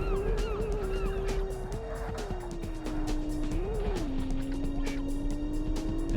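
An AI opponent's Porsche follows close behind in the Porsche Challenge racing game, with a steady engine drone that rises and falls with gear changes, continuous and fairly loud, under faint game sounds.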